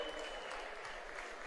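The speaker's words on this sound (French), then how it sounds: "récompenser sous les applaudissements les deux coureurs canadiens" Faint, distant applause for the podium at a cycling race, a continuous wash of crowd clapping with some voice faintly underneath.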